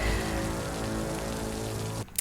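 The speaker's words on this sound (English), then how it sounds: "It's raining." Steady rain pours down outdoors, a dense, even hiss that continues without a break for about two seconds and then cuts off abruptly, with no voices.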